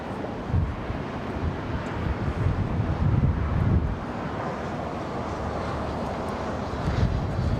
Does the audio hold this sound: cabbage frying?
no